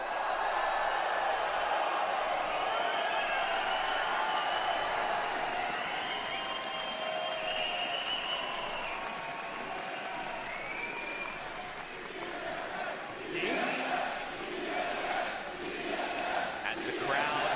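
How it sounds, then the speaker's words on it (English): A large crowd roars and cheers at an esports championship grand final for Apex Legends ALGS, a continuous swell of voices and applause that dips slightly, then rises again with scattered claps near the end. "Crowd, make some noise!"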